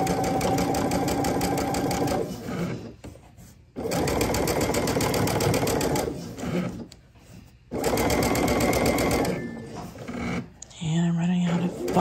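A serger stitching a knit neckband runs in three fast, steady bursts, loud and close, each separated by brief pauses, ending with a short back-stitching run.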